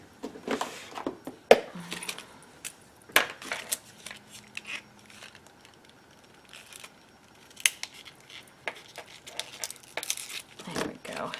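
Scissors snip paper for a handmade mini album in scattered close, crisp cuts, with rustling and handling noises in between and a brief faint voice.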